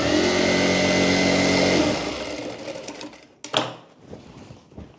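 An electric sewing machine stitches a net baby frock with a loud, steady whirring run that stops after a couple of seconds, followed by quieter handling clicks and rustles.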